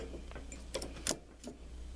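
Needle nose pliers pulling a brake pin clip on a Harley Davidson touring motorcycle, a few small, quiet metallic clicks and ticks in close succession.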